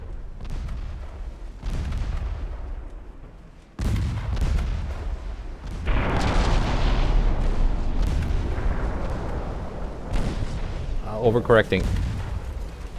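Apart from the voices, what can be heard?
torpedo hits exploding on warship in naval video game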